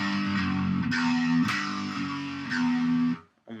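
A short, heavily distorted electric guitar riff, the intro to a song, plays alone, with chugging low notes and a few sharp accents, ending abruptly.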